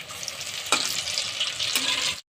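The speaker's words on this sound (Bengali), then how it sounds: "এরকম করে ভেজে নেবো সবগুলো। এই যে উল্টিয়ে দিচ্ছি।" Banana flower fritters frying in hot oil, a steady close sizzle with two sharper crackles as they are flipped, then sudden silence.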